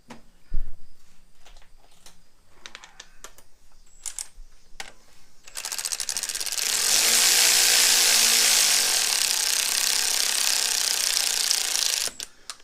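Power tool driving a bolt with blue Loctite into a 2008 Subaru Impreza 2.5 engine during a timing belt install, a few clinks and scrapes first, then a loud sustained whirring ratchet burst lasting several seconds before stopping.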